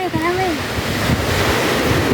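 A steady wash of sea surf at Bacolod, Surigao del Sur, with wind rumble, close and continuous, with a brief voice and a faint whistle near the start.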